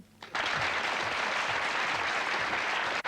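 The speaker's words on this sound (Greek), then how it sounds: "παρακαλώ χειροκροτήστε την" Loud, dense studio-audience applause for a female contestant on a 1995 Greek television game show bursts in after a brief quiet start and holds steady, cutting off abruptly near the end.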